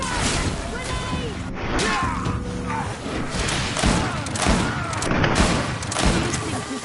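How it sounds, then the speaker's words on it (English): A grenade blast and surrounding gunfire in the fantasy action RPG GreedFall, a loud continuous battle din of crashes and shots running throughout, with shouting voices mixed in. "Watch out! Grenade!"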